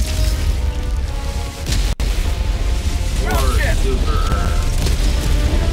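Explosions and mechanical clatter fill a Helldivers 2 battle, with repeated booms and gunfire-like bursts and a voice talking underneath.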